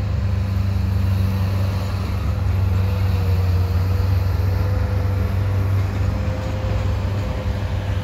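A CP stack freight train rolls through the Port of Montreal, a steady low rumble that holds evenly throughout with no voices.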